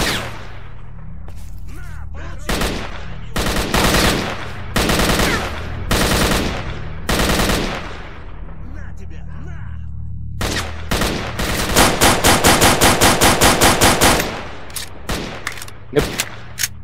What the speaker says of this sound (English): They have assault rifles and I have a pistol and a shotgun.